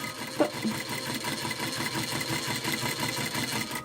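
A sewing machine runs steadily and close while stitching a washable fabric mask, a continuous rapid mechanical whirring with a brief knock near the start.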